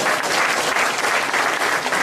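Seminar audience members at an AIM Global marketing talk clap together in a dense, sustained round of applause, close and loud, with no talking over it.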